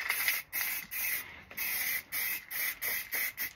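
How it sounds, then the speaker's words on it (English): Grey primer sprays from an aerosol can in repeated short hissing bursts, a steady rhythm of spritzes separated by brief pauses, close and fairly loud. "That's the second coat of grey primer."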